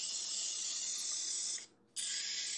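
Cooking spray bottle misting food for an air fryer, a close, steady hiss held for about a second and a half, a short pause, then a second burst, with no talk.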